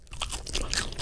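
Crunchy Wingstop fries with extra seasoning being eaten close to the mic, a quick run of crisp crunching bites and chewing, sharp and near, with no talk.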